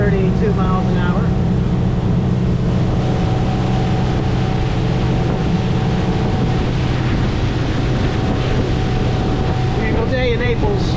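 A 2017 Key West 239FS center console boat cruising at about 32 mph on open water near Naples, with steady engine drone, hull and water rush and wind buffeting the microphone throughout; someone talks over the noise.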